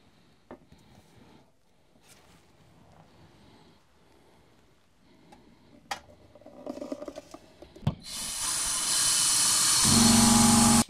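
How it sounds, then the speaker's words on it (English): A resin mould is sealed in a pressure pot, a few clanks and knocks, then compressed air rushes in with a loud sustained hiss that builds and holds for the last few seconds. "let's get this in the pressure pot"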